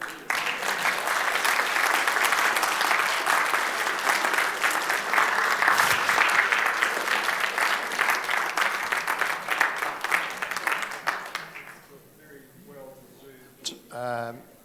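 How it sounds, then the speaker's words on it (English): Appreciative audience applause after a talk on seed production in Canterbury at a U3A meeting, a sustained even round of clapping that fades out, followed by brief quiet voices near the end. "And appreciative applause there, John."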